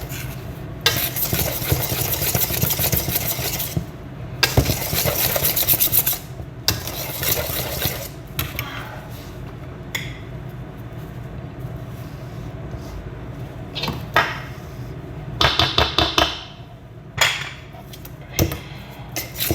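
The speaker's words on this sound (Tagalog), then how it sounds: "Haluin natin ang haluin." Basbousa cake batter stirred vigorously in a bowl, close rough scraping strokes in bursts with short pauses, turning into quicker rhythmic scrapes toward the end.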